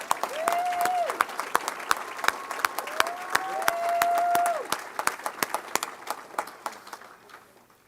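Banquet audience applauding in honor of a basketball coach at a girls basketball hall of fame dinner: sparse, scattered claps with a sustained hum of voices beneath, thinning out toward the end.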